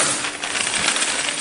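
Gold coins tumbling and clinking together in a steady, dense metallic jingle that runs unbroken for about a second and a half, fairly close and with no voices.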